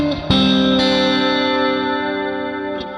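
Electric guitar playing a live-style intro built on a suspended chord: a bright effects-laden strum rings out with chorus and distortion, sustaining steadily and fading slightly, with a second strum near the start and a soft touch near the end.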